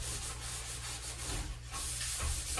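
A sponge scrubs a painted wall clean before repainting, making a steady, close rasping rub with gentle rhythmic strokes throughout, with no talking.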